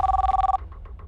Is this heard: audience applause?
no